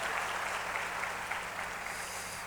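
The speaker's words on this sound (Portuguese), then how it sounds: "Você pode dar um aplauso bem forte ao Senhor também?" Congregation applauding during a church service, a steady dense wash of clapping that holds at an even level throughout with no break.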